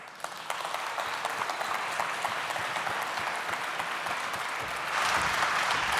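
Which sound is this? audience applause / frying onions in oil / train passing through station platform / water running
audience applause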